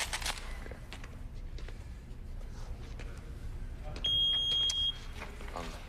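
At a college football bowl game, a security checkpoint metal detector sounds a single steady electronic beep lasting about a second, over background clatter and crowd noise.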